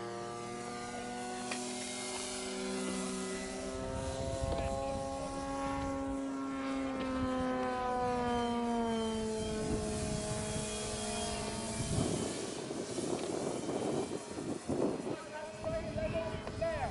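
A model F4B aircraft engine drones in flight, holding a steady buzzing pitch that slowly dips and rises as the plane passes, with someone talking over it from the ground.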